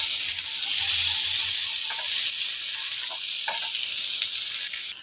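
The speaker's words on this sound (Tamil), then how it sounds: "இந்த வெங்காயத்தை போட்டு நல்லா வதக்கி வைக்காங்க. நல்லா வதங்கட்டும்." Onions sautéing in hot oil with curry leaves for a pumpkin oats rava dosa, a steady close sizzle and crackle running the whole time with a few brief stirring scrapes and no talk.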